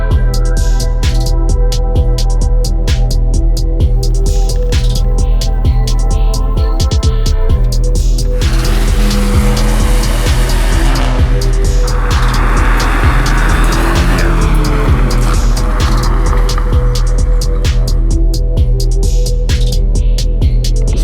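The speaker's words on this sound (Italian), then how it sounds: "gli scarichi suonano alla grande" A 2019 Abarth 595 Competizione's engine and exhaust, a loud continuous drone with steady low harmonics and a surging, rising roar partway through, heard alone without talk.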